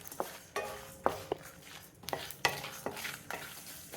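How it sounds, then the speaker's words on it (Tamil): Whole spices dry-roast together in a kadai, heard as a series of sharp scraping stirs and rattles against the metal, roughly twice per second, over a faint background hiss. "இப்போ கடாயில் ஒன்றாவே போட்டு இதை வறுத்து எடுத்துடலாம்"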